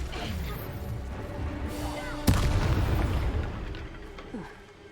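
An Incendio fire spell cast in the video game Hogwarts Legacy: a sharp blast bursts out midway through a dense, rumbling combat soundscape and is followed by a lingering roar that slowly fades.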